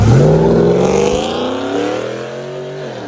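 A supercharged GMC 6.2L V8 truck engine with dual exhaust and valved mufflers open revs loudly with a deep, throaty exhaust, the pitch climbing steadily as it winds up.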